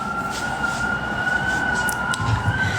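A sea whirlwind howls through a window gap, holding a steady, high whistling tone over a continuous low rumble of wind that stays at an even level throughout.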